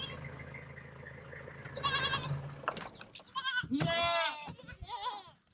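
Goats bleat on a farm pen holding new mothers and young kids, with several wavering cries close by, some overlapping, over a background of low rumbling noise.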